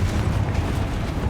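A Confringo fire-blast spell in Hogwarts Legacy, a short, heavy rumbling explosion with a dense low roar that holds steady for over a second without talk.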